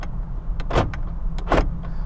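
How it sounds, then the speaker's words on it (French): Door locks on a modified Jeep Wrangler engage in quick mechanical clunks, a few short sharp actuations close by inside the vehicle. "Je vais verrouiller, entendez le bruit."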